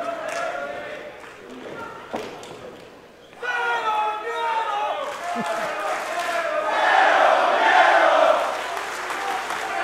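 Wrestling arena crowd during a bout between Penta and Cody Rhodes, a large audience chanting and roaring in rhythmic swells that build louder toward the end, with a commentator talking over it.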